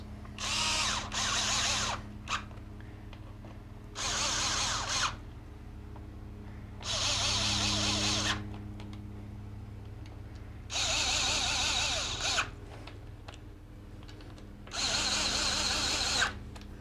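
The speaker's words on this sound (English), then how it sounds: "I'm going to take my little gun and I'm just bumping them down to where they seat" A small impact gun rattles in five short bursts, snugging down primary cover bolts one by one, with a low steady hum beneath the pauses.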